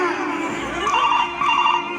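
A mobile phone ringtone plays steadily at close range, a bright warbling electronic melody that carries on for the whole stretch, with faint voices in the background.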